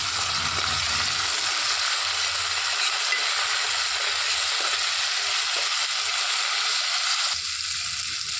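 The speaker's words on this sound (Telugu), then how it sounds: "ఇందులోనికి సన్నగా తరిగి పెట్టుకున్న ఒక టమాటాని వేసుకొని వేయించుకోవాలి." Finely chopped tomato sizzles in a hot pan, a steady close hiss with faint stirring scrapes, quieting briefly near the end.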